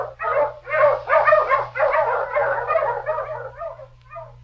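Dog barking in a 1940s Yukon radio drama: a run of eager, yelping barks in quick succession, loud and close, over a steady low hum, tapering into softer yips.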